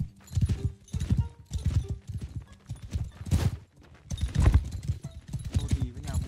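Horse hooves clip-clop in Mount & Blade II: Bannerlord, a steady, close, rhythmic patter of several beats that runs throughout under spoken talk.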